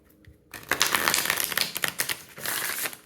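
A short pause, then rapid crisp riffling of fairy-themed playing cards being shuffled, a dense burst of flicking clicks lasting a few seconds, close up.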